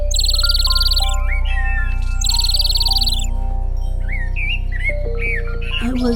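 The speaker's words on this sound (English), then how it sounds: "thanks to you and your beautiful song, Nightingale." Nightingale song performed in a children's stage show, a loud, varied string of whistled trills, chirps and sliding notes in bursts over a steady low hum.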